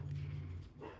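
Dog named Lebowski barking at a delivery truck, a short loud burst close by indoors with a second fainter yelp at the end.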